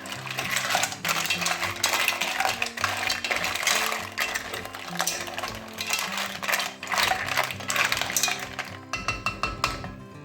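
Mussels stirred through a garlic and saffron cream sauce in a metal pan, giving a steady clatter of shells knocking and scraping against the pan and each other, close and continuous for the whole stretch.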